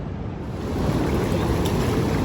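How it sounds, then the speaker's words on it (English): Ocean waves rolling in and breaking on Cannon Beach, Oregon, a steady broadband wash of surf that swells louder partway through and holds, with wind over the microphone. "Taking a little break out here just to enjoy the waves."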